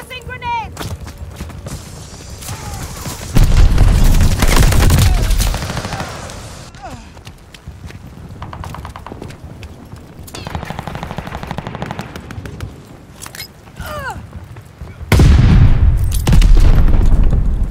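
Grenade blasts and rapid machine-gun fire in a Call of Duty Vanguard Capture the Flag match: steady bursts of automatic shooting, with two loud, booming explosions standing out early and near the end.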